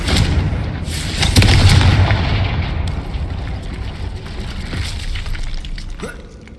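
Confringo spell explosions in the Hogwarts Legacy video game, loud blasts with crackling bursts that swell and then fade into a rumbling tail.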